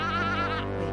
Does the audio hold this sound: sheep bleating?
yes